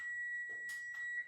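Stove timer beeping in a home kitchen, a steady high electronic tone held under short bursts of soft background noise.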